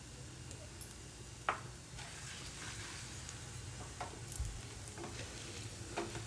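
Mustard and cumin seeds frying in hot oil for a tempering, a soft, steady sizzle with faint crackles and a few small pops close by, no voices.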